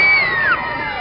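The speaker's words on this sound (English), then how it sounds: "scream even louder if you think her favorite Muppet is Beaker" An audience of children screams loudly at the Decatur Book Festival, a brief, close, high-pitched burst of cheering that quickly fades.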